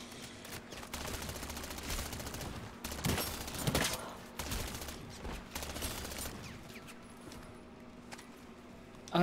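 Pistol gunfire in Call of Duty: Modern Warfare III Zombies, a handful of sharp shots that stand out from a dense, continuous game soundscape of rumbling action and mechanical clatter.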